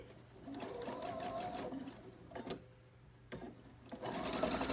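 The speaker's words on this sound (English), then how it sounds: "Leave my needle down, I'll swing my material around, sew across the bottom." Sewing machine stitching across the bottom of a t-shirt dress, a quiet, rapid mechanical whir in short runs broken by brief pauses and a few sharp clicks, close and alone.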